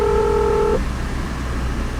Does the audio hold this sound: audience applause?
no